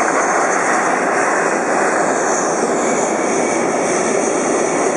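Jet engines of an Aeroflot Airbus A330-343X taxiing at LAX, a loud, continuous roar with a steady high-pitched whine running throughout.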